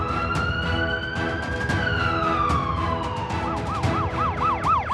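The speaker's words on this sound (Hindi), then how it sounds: "जब एम्बुलेंस का सायरन बजता है तो भीड़ भरी सड़कें भी खाली हो जाती हैं।" Wailing ambulance siren on a road, loud and close, sweeping smoothly up and down before switching to a faster rapid yelp pattern, with no voices.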